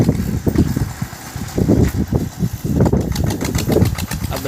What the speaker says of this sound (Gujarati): જો કાકા ટ્રેક્ટર લઈને જાય છે.